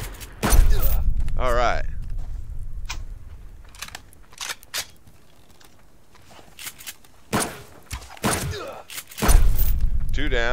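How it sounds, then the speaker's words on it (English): Grenades fired and exploding in the survival game Subsistence, several sharp loud bursts with booming tails, spaced apart by quieter stretches, while a voice speaks briefly. "Stop shooting them grenades!"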